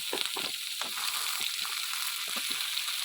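Potatoes, chopped onion and ginger-garlic paste fry in a hot pan with a steady, close sizzle and crackle, alongside occasional stirring scrapes.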